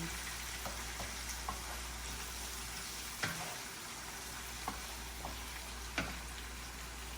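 Food stirred in hot oil in a pan while making kichuri, a steady, soft sizzle with scattered light scraping clicks from the stirring, heard close and alone.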